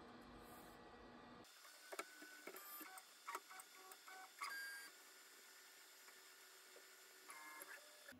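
An Artillery Sidewinder X2 3D printer printing a 3D Benchy hums and whirs quietly, with faint stepper motor tones shifting in pitch and intermittent clicks and chirps as the print head moves.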